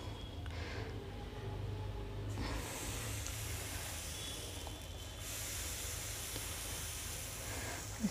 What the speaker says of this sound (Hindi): अब हम डोसा डालेंगे बैटर।